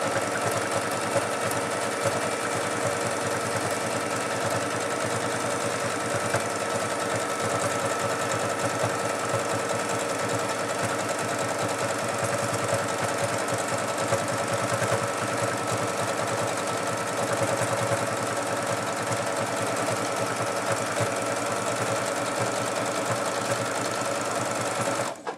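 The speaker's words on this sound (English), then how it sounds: "I'm going to do a simple hem with one of my decorative stitches" A sewing machine running a decorative stitch along a simple hem, a steady close mechanical whir with a fast rhythmic needle clatter that continues unbroken throughout.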